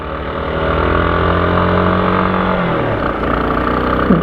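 A motorcycle engine passes close by on a street near a motorcycle stand, its steady mid-pitched drone holding loud for a few seconds before the pitch drops away as it moves off.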